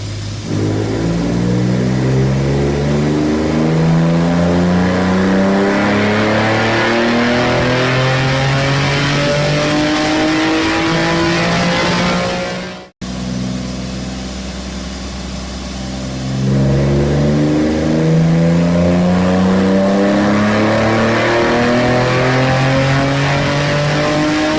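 Flat 6 Innovations R43 Porsche flat-six engine on a dyno, loud and close, pulling through two long wide-open-throttle sweeps with rising pitch, separated by a brief cut, no voices.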